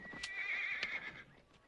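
A horse whinnies loudly and close, a long shrill neigh with a few hoof knocks underneath, no talking.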